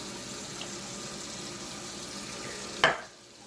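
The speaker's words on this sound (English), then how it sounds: "I'm gonna do a cup of water" A cup of water poured into a pot holding sugar for a cranberry conserve, a soft steady splashing stream under kitchen background noise that ends in a short louder gush and then fades.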